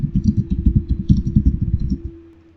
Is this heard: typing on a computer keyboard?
yes